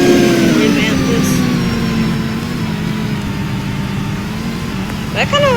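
A tractor hauling on a flatbed in a video game, its engine humming close and steady with a slight falling pitch, and a voice chiming in briefly near the end.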